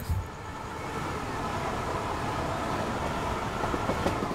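A train in Train Sim World 4, a fast local train, slows hard from speed toward a station under braking, a steady broadband rumble and rail noise holding throughout with a few light clanks near the end, no talk.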